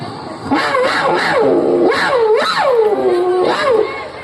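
A voice imitates a dog barking and howling in a string of rising and falling yelps, close and loud, with no real animal present.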